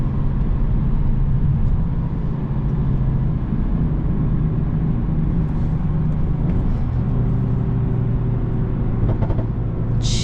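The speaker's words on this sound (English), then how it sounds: "I really hope y'all can't hear those burbles because they're pretty obnoxious." Interior cabin sound of a 400 hp BMW 335is with manual transmission, a loud steady engine and exhaust drone with low rumbling and faint intermittent crackly burbles, heard from inside the car without talking.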